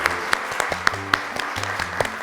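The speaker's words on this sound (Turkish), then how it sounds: "Alkışlıyoruz mucitleri." A studio audience on the Turkish game show 3-2-1 applauds the inventors team after they win a round, with scattered claps mixed over a bright musical jingle.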